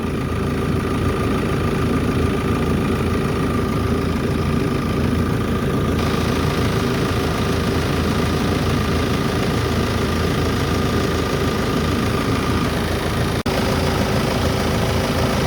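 A Peugeot 308 SW with a 2.0 BlueHDi 150 diesel engine idles at full operating temperature, giving a loud, steady low rumble and vibration that continues unbroken, with no voices.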